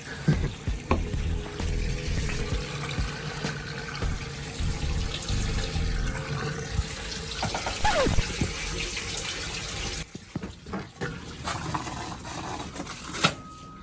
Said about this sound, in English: we are currently filling up the freshwater tank with some fresh water.